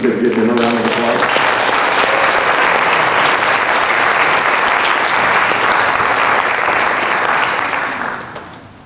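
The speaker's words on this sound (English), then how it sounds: "If you could give him a round of applause." Loud, dense applause from a school music awards audience fills the room for a technician in the booth, sustained at full strength before fading at the end, with a brief bit of talk and singing-like tones at the start.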